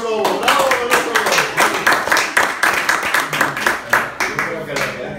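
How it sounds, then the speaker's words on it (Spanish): A group in a voice and singing workshop claps, a close, lively run of irregular hand claps lasting about five seconds, with voices calling out over it. "Un aplauso por el oso lobo."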